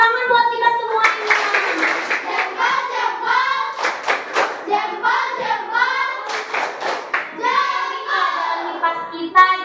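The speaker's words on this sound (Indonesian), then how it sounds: "tepuk tangan buat kita semuanya" Primary-school children in an Indonesian fourth-grade science class clap their hands rhythmically in unison, their beats mixed with loud, chant-like young voices close by.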